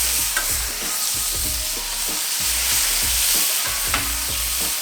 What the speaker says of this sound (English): All right, flip our bacon.